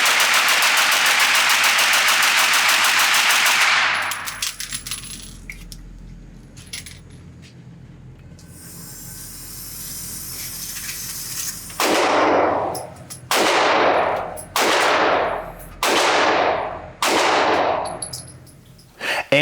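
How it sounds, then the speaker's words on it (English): A JP Enterprises GMR-15 rifle fires a rapid mag dump of sharp, loud shots with ringing brass, then several separate bursts follow after a pause, heard close up at a range. "I just want to do a good old mag dump with it, see how fast I can shoot it"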